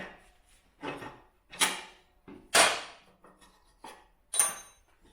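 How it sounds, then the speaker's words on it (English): Metallic clanks, scrapes and knocks as a rear axle nut is removed and the axle slid out of a 125 motorcycle, a series of separate close hits and slides with short gaps between. "Now remove the rear axle nut and slide the axle out."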